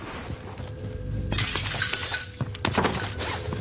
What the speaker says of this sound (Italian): ma rompi sti vetri